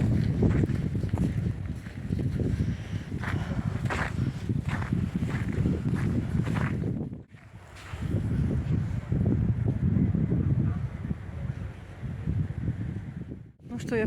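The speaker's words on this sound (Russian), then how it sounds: "Ветер еще сильнее поднялся." Strong wind roars and gusts outdoors during a snowstorm, buffeting the microphone almost continuously with brief drops, while someone talks over it.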